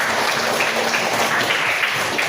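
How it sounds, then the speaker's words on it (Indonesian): A classroom of students clapping together, a dense, even wash of applause at moderate volume, continuing steadily without speech. "Oh ya betul, tepuk tangan."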